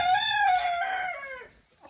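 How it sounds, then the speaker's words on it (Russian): An Araucana-cross crested hen gives a single loud, drawn-out, close call that slides gradually downward in pitch and then trails off into quiet. "Это помесная с амерауканом и моей чубатой курочкой"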